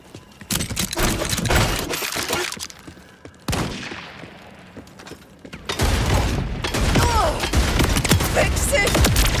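Video game fireworks burst in loud clustered bangs and crackling booms, with dense volleys interrupted by short gaps before a longer sustained barrage.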